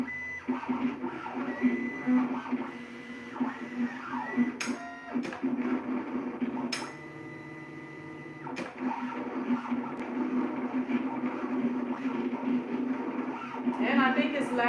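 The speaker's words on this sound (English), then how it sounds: "this cutter cut out a lot slower than my other one." A contour cutter slices out printed transfers with a steady mechanical whir and intermittent buzzing carriage runs, broken by short clicks and louder bursts of motor movement, continuous and fairly close throughout.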